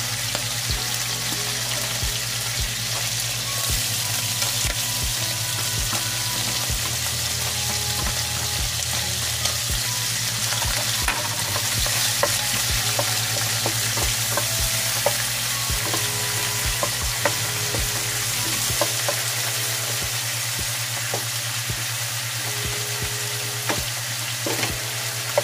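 Onion sizzles steadily in hot olive oil in a pan, with occasional stirring scrapes and a constant frying hiss, close and continuous with no talk.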